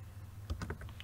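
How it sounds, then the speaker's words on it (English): A short run of keystrokes taps on a computer keyboard while code is typed into a programming project, a handful of quick close clicks over a low steady hum. "So we are just typing test 1 followed with colon equal"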